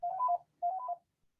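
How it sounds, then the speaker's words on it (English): Landline telephone ringing indoors, two short warbling electronic rings separated by a brief gap, fairly quiet and isolated with no talking. "Oh, sorry, that's my phone."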